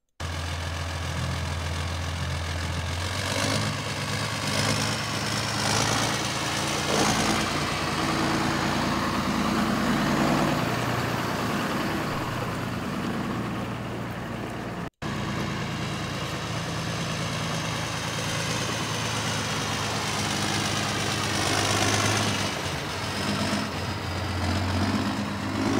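Valtra A75-4 tractor at a machinery auction, its engine running with a steady low rumble and broadband mechanical noise throughout, continuous and loud with no speech.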